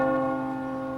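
The Liberty Bell rings in a radio ad effect: one deep, sustained bell strike with rich overtones, heard alone and fading slowly through its loud resonance.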